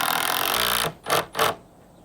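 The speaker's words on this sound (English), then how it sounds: "I'm going to screw that to our fence" A power driver runs continuously as 10 gauge Tek screws go into a timber brace on a leaning fence, then stops and gives two short bursts to tighten, loud and close with no talk.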